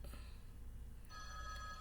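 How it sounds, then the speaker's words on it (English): A telephone rings in a quiet room, its tonal ring starting partway through and sounding alone at moderate level over a low background hum, with no one talking. "I don't know who's ringing the phone"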